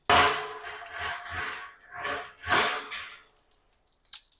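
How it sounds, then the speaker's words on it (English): A metal grate pulled out of a homemade smoker, several scraping and rattling bursts of metal sliding over the frame, close and fairly loud, ending with a small clank. "So I'm gonna grab this grate here."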